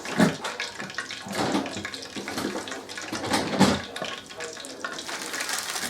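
Water is poured out into a kitchen sink during tempura cooking, an uneven close splashing gush that rises and falls in several surges.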